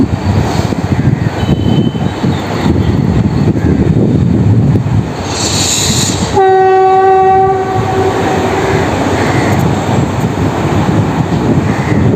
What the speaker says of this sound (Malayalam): അവിടെ അടുത്ത ട്രെയിൻ വന്നു